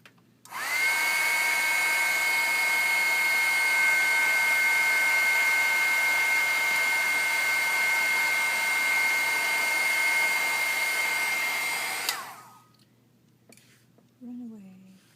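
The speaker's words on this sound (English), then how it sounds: "So I'm going to blow dry this" A hair dryer blows steadily and loudly for about eleven seconds as something is blow-dried, its even whooshing drone ending abruptly, followed by a brief bit of quiet room noise.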